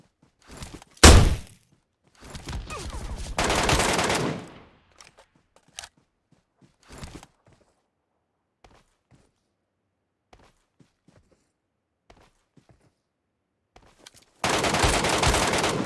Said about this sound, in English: This guy's just shooting SLR at me.